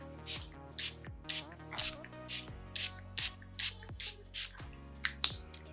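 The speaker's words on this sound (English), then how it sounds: "I spray my setting mist" Essence Hello Good Stuff 3-in-1 face mist with watermelon extract sprayed close up, a series of short hissing pumps repeating about once a second over a soft tonal background.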